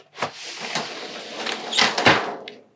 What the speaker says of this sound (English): probably the other coolest feature in the van is our shower door